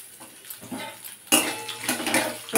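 Small diced potato pieces tumble into a pan with a sudden clattering rush, followed by scraping and light metallic clinks of a utensil against the cookware, close and fairly loud.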